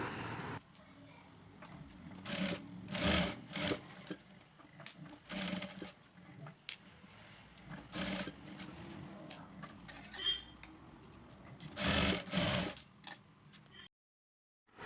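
A domestic sewing machine stitches an abaya sleeve piece in short, rapid bursts of mechanical whirring separated by quiet pauses, close and clear, ending in silence.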